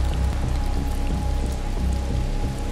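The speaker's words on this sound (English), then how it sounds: "Oh hey, it's raining." Steady rain in the video game Dead Island Riptide patters densely on a surface, a constant hiss with low rumbling underneath and no speech.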